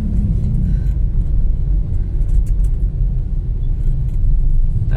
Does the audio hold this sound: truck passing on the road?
yes